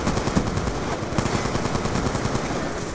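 Rapid automatic fire from an AR-94 rifle in the video game Black Ops 2, a dense, continuous rattle of shots lasting several seconds at steady loudness.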